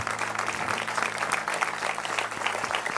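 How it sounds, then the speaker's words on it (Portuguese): Church congregation in a Madureira ministry service applauding, a dense, loud burst of many hands clapping over a low organ or keyboard hum, with no speech. "Uma salva de palmas a Jesus pela vida dos nossos bispos."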